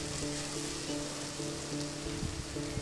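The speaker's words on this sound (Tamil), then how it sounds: "பொடியா நறுக்குன 8 சின்ன வெங்காயம் சேர்த்து நல்லா வதக்கிக்கலாம்." Chopped small onions sizzle steadily in hot oil in a clay pot, with faint scraping taps of stirring now and then.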